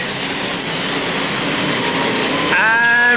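A pulling tractor roars at full power during a 1996 tractor pulling event in Hörby, Sweden. The dense, loud engine noise holds steady, and a rising whine cuts in near the end.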